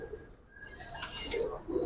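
Old-breed Giribaz pigeons give a brief, soft coo close by, a low murmuring call rising toward the end of the short moment, with light rustling and no talk.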